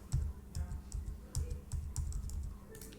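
Code is typed on a computer keyboard in quick, irregular bursts of soft key clicks, close by and fairly quiet.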